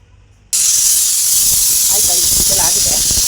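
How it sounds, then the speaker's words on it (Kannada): A pressure cooker venting during home cooking, with a sudden loud, steady hiss of escaping steam that starts abruptly and holds at full strength, faintly warbling as it goes. "ಕುಕ್ಕರ್ ಮುಚ್ಚಳ ಮುಚ್ಚಿ ಒಂದು 5 ವಿಷಲ್ ತಗೊಳ್ಳೋಣ."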